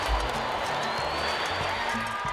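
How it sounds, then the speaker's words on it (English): A Cuban crowd cheers for an American president: a dense, continuous wash of voices and claps stays fairly even, with scattered shouts rising out of the noise. "Are these Cubans cheering for an American president?"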